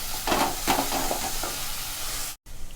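Onions sautéing in a pan with a bit of salt, a continuous close sizzle with soft stirring scrapes, alone without speech, briefly cutting out near the end.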